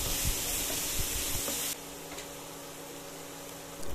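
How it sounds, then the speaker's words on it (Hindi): Green chilli and ginger garlic paste for a vegetable kebab sauté on a tawa. A bright, quiet sizzle comes with light stirring taps, and the hiss suddenly drops lower partway through. "अब इस सबको अच्छे से भूनेंगे एक दो मिनट के लिए ताकि इसका कच्चापन दूर हो जाए।"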